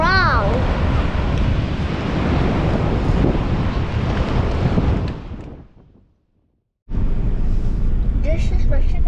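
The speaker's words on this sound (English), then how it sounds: "These waves are very strong." Strong ocean waves crash and roar loudly on the shore in Bali, with heavy wind buffeting the microphone; a brief voice sounds at the start, and the surf cuts out into silence for about a second before resuming.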